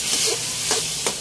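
Vinegar hits a hot pan of tilapia escabeche, giving a continuous close sizzle with a few brief hissing bursts and light stirring.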